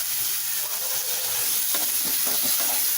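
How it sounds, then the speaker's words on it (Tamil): Chopped tomatoes sizzle as they are sautéed in a pan for a Tamil mushroom gravy, a steady close hiss of frying with faint stirring scrapes and no talking. "தக்காளியை நல்லா சுருள வதக்கிக்கலாம்."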